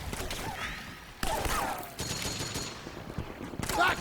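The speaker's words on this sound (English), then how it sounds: "Suppressing fire!" Suppressing gunfire rattles through a Metal Gear Solid 4 battle, with sharp bursts and scattered shots layered under shouting soldiers and game effects over the full four seconds.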